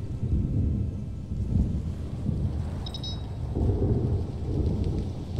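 Rain and rolling thunder in the survival game Stranded: Alien Dawn, a heavy low rumble that swells and ebbs under a constant wash of rainfall, with no speech.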